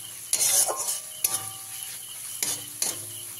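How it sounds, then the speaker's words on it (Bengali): Spice masala being stir-fried in a pan over a medium flame for an egg and masoor dal dish: a few separate scrapes and clinks of a spatula against metal over a soft sizzle. "মশলাটাকে খুব ভালো করে ভেজে নিয়েছি।"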